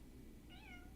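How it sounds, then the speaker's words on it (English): A cat meows once, a rising-then-falling call in the second half, heard fairly close over a steady low background hum. "Meow? Who's meowing?"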